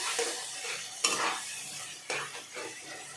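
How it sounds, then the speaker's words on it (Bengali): A spoon stirs mashed smoky eggplant with salt and turmeric in a pan, giving a few distinct scraping strokes over a soft, close sizzle. "এবার ভালো করে সব কিছু দিয়ে মিশিয়ে নিতে হবে।"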